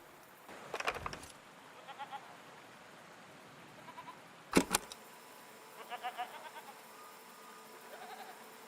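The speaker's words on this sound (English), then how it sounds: "What are these strange goat-like creatures?" Goat-like creatures in the game Season: A letter to the future let out two short bleats a few seconds apart over a quiet, faintly buzzing outdoor ambience.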